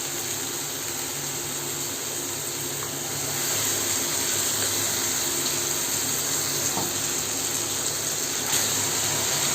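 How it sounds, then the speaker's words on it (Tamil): Steady running water pours and splashes into a blender jar, a continuous rushing hiss that gets slightly louder partway through, with no talking. "ஜார் கழுவி நம்ம ஒரு தண்ணி இதில் சேர்த்துட்டு"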